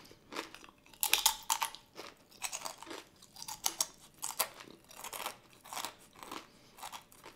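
Crunchy paleo-friendly, gluten-free barbecue non-grain chips being chewed up close, a steady run of crisp, crackling bites and munches with short pauses between them and no talking.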